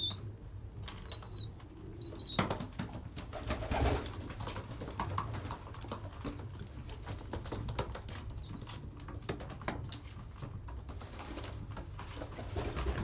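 Young pigeons settling into a new loft coo softly and continuously, with a few sharper calls near the start and scattered rustling and pattering throughout, fairly faint, with no talking.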